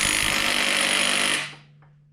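A power tool whirs loudly and steadily while tightening a nut on a rare Kawasaki F11M engine during restoration, running close for over a second before spinning down and stopping.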